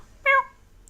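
A person imitates a cat with a single short, clear meow in a quiet room, done in a human voice.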